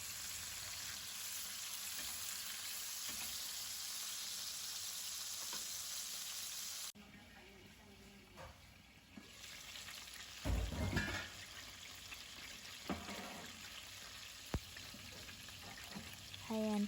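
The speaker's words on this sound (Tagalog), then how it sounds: "pwede na nating i-flip para iprito naman natin yung kabilang" Chicken pieces just flipped in a pan give a steady, close sizzle that drops in level partway through, with occasional clatter from the pan and utensil over the continuous frying hiss.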